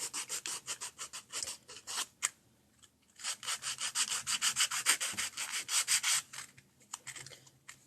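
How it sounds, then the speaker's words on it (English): Extra fine 320 grit sandpaper rubs back and forth in quick, even strokes, close and clear, making a rhythmic scratchy sound with a brief pause partway through. "This is just 320 grit, extra fine sandpaper."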